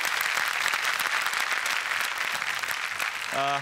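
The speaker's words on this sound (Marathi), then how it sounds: "लक्ष्मीकांत बेर्डे यांच्यासाठी खरंच जोरदार टाळ्या झाल्या पाहिजेत" Loud, sustained applause from a studio audience on a Marathi comedy show, honouring actor Laxmikant Berde. It fills the clip evenly, with a brief tonal sound near the end.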